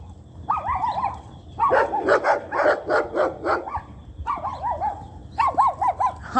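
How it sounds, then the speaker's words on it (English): A small dog barks in repeated bursts of sharp, yappy barks from close by, excited and rambunctious, with short pauses between volleys. "The little doggy is rambunctious."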